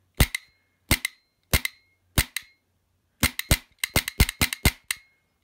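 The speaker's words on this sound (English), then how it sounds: "I'm just going to test the trigger, make sure it works." Airsoft CQB gun gearbox dry-fired in a trigger test: sharp, loud mechanical snaps, first single shots spaced about half a second apart, then quicker bursts of two and three clustered cracks, close up with no talking.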